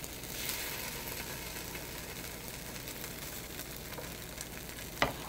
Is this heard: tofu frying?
yes